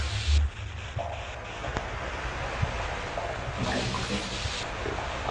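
Water rushing in the video game Half-Life: Blue Shift, a steady broadband wash with low rumble running the whole time at moderate-to-faint level, with a brief dull thump near the start.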